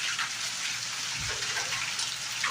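Heavy rain pours down steadily, a dense, even hiss of water hitting surfaces. It stays loud and close throughout without letting up, and no voices are heard.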